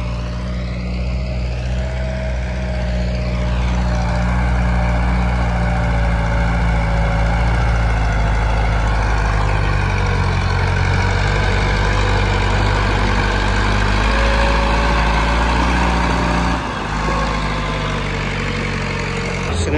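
A model 265 tractor engine arriving at a tractor fair, a loud steady low diesel drone with a constant throb that holds for the whole span, close by and unbroken, with a brief dip near the end.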